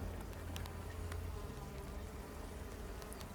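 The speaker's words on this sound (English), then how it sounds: "the bee traffic was so heavy" Honeybees buzz steadily around a hive during an inspection, a dense continuous drone of many insects close by with occasional louder passes of individual bees, no talking.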